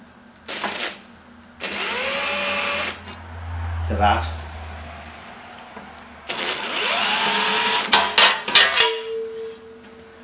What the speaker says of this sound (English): And then I'll drill those out to 5/16